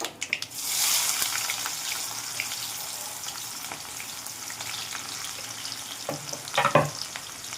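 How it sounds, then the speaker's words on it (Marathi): Mustard seeds, cumin and onion sizzle in hot oil for a bitter gourd dish, a loud, steady crackle close by, with a few clattering stirs near the end and no voices. "मोहरी छान फुलली का त्यानंतर जिरे टाकणार आपण बघू शकता आपण त्यासोबत जिरे मोहरी जिरे छान फुललेले आहे कांदा"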